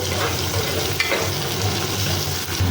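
Thinly sliced tomatoes frying in a pan for egg fried rice, a steady dense sizzle with faint scraping of stirring, close and continuous with no talk.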